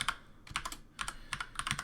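Keystrokes on a computer keyboard as a command is typed while setting up a Kali Linux lab, three short bursts of quick, close clicking with brief pauses between them.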